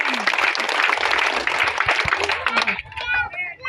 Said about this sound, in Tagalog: Sige, palakpak para sa Diyos.